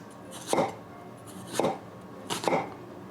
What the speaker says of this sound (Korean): 대충 양파는 이렇게 하면 채가 썰린단 말이죠